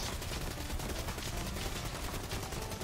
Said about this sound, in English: This turret is badass.